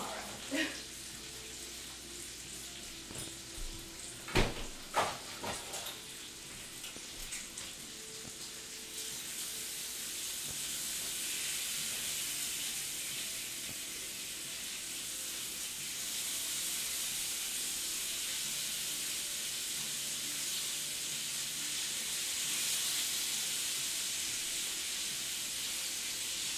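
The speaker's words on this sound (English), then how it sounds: "So we have that bacon frying." Bacon fries in a pan with a steady, quiet sizzle and hiss that grows fuller after a few clattering knocks early on.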